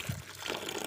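A little water is poured into a seedling soil mix, a brief soft splash and trickle that is close by and quiet.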